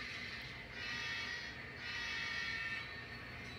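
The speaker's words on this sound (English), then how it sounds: "Should hear him in the background. That's the SD40-2 in the west yard." An SD40-2 diesel locomotive idles in the west rail yard, a steady, distant rumble with a faint ringing tone on top, gently swelling and easing, with no talking.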